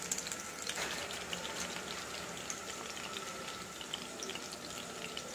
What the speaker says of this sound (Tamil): ஒரு மீடியம் ஃப்ளேம்ல நம்ம இத வந்து ஃப்ரை பண்ணி எடுத்துறோம்